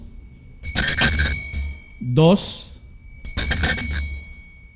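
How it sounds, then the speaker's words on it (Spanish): A hand bell is rung in two bright, ringing bursts separated by a short pause, with someone speaking briefly between them. "Ya tengo la campana."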